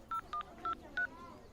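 Four quick telephone keypad tones beep in a fast, evenly spaced sequence, clear and close, followed by a faint fading tone.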